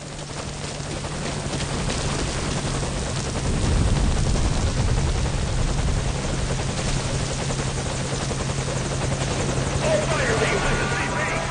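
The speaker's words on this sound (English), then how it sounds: "the enemy has spotted our helicopter" A loud, steady helicopter rotor drone from the video game Metal Gear Solid V: Ground Zeroes fills the whole stretch, staying constant and close without letting up.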